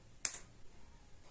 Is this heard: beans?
no